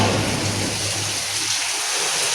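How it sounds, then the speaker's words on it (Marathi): Heavy monsoon rain pours down steadily as a dense, loud wash of drops, with low rumbling thunder underneath in the first second and a half before fading into the continuous downpour. "खूप पाऊस पडतोय"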